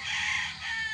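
Short, fairly faint crow of an Escolin street breed gamefowl rooster, heard alone at moderate distance.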